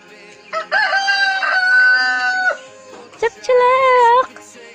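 Chickens at a house cluck, and a rooster crows loudly and close by in two drawn-out calls separated by a short pause, with brief clucks in between.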